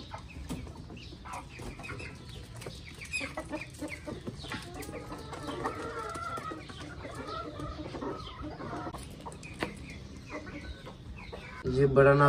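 Hens clucking steadily in a coop where a broody hen is sitting on eggs, the soft fowl calls continuing throughout with some background activity and a louder burst near the end.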